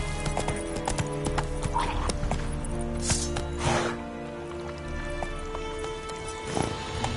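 Roach the horse galloping in The Witcher 3 video game, with steady, rapid hoofbeats close up under continuous game music and a brief whinny-like sound in the middle.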